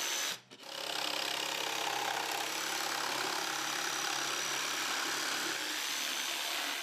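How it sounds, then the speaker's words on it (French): A jigsaw cuts through a wooden board with a steady, loud buzzing drone, broken by one brief pause near the start. "Et découpez-la avec votre scie sauteuse."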